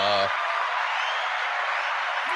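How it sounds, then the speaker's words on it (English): A steady wash of audience applause at a Portugal Business Club gathering, loud and continuous for over two seconds after a brief voice at the very start. "Give her a proper round of applause."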